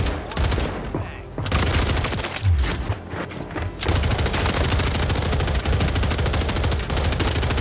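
An LMG fires in long rapid automatic bursts in Rebirth Island, a video game, loud and close, with a brief pause in the middle before it resumes in a dense, continuous stream of gunfire.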